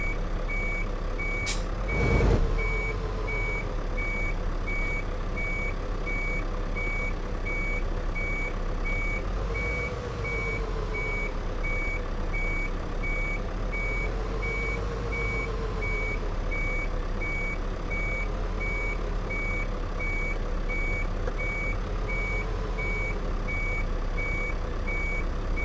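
Reversing beeps of a truck in Euro Truck Simulator 2, a steady high repeating tone over a constant low engine rumble, with a brief air-brake hiss near the start.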